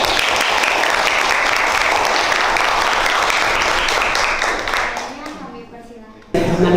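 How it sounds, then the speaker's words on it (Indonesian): An audience at a school workshop on teen social life applauds the speaker, a dense, loud, sustained wash of clapping that thins out and fades toward the end before a sudden noise cuts in. "Agar lebih semangat, kita beri aplaus dulu untuk Ibu Vivi."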